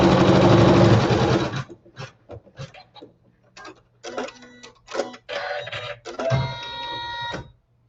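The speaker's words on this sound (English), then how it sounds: "then I'll sew my seam using a neutral colored thread" A sewing machine stitches a seam in neutral thread, opening with a steady whirring run, then stopping and starting in short mechanical bursts and ticks, close up and with no talk.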